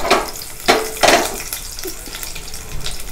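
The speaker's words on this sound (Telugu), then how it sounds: "నెయ్యి నూనె 2 వేడెక్కిన తర్వాత వెల్లుల్లి రెబ్బలు యాడ్ చేసుకోవాలి." Garlic cloves sizzle in hot ghee and oil in a pan, a continuous close frying hiss broken by a few sharper scrapes and clatters of a spoon against the pan, with no talking.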